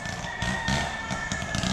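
A chicken clucks and crows close by in a few short bursts, with steady background noise underneath.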